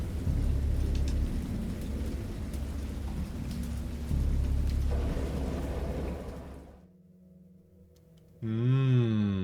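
Thunderstorm in the Dagon video game, based on the H.P. Lovecraft story: a heavy, steady hiss of rain with low rumbling thunder, fading out near the end before a swelling eerie tone takes over.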